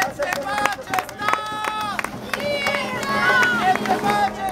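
Crowd at a street murga performance clapping and cheering amid loud shouting and chanting voices, with a dense, continuous wash of noise throughout.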